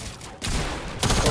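Dense bursts of gunfire from the video game Fortnite, two loud sustained volleys of rapid shots with a brief lull between them, close and harsh.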